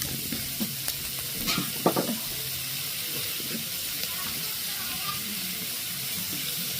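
Fennel seeds being sautéed in a pan in a home kitchen, a soft continuous sizzle with occasional stirring scrapes and a few clinks, fairly quiet and steady throughout.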